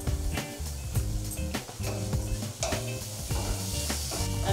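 Black pepper shrimp with lime juice frying in a pan, a steady close sizzle broken by repeated scraping and clanking of a utensil against the metal.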